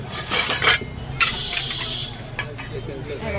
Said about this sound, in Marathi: अशी कढई वगैरे पाहिजे असेल ना स्टीलमध्ये ते बघा छान अशी कढई आहे